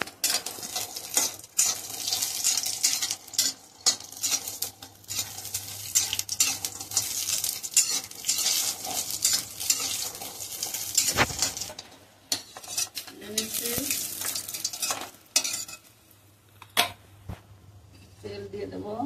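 Pumpkin and sun-dried pumpkin bori frying in a pan, with steady sizzling broken by repeated scraping and clattering of a spatula against metal, close up, while a person talks over it.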